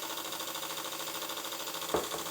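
A worn Krick steam plant from a Victoria model steamboat runs with a fast, steady mechanical chatter. Its main bearings are worn and leaking oil. A brief louder knock comes near the end.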